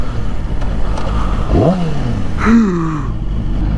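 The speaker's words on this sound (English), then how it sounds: "I shouldn't have revved." A motorcycle engine gives two quick, loud revs on the road, each a sharp rising blip that falls away, over a constant background of wind and traffic rumble.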